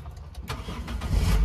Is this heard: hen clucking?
no